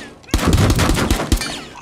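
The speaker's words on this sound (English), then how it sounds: "It wasn't me shooting." Close gunfire in a video game: a short burst of rapid automatic shots rings loud and dense for more than a second.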